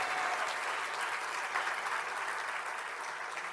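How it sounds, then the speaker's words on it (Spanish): A church congregation claps loudly and steadily for the Lord after a pastor's exhortation, a sustained, dense round of applause from the whole room. "Dele fuerte ese aplauso al Señor."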